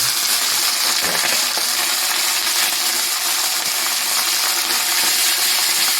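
Fish frying in hot oil for Jamaican brown stew fish, a steady loud sizzle and crackle close up throughout, with faint clinks underneath.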